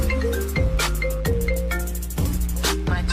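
A phone ringtone plays a repeating electronic melody of bright tones, loud and close, looping steadily without any talking.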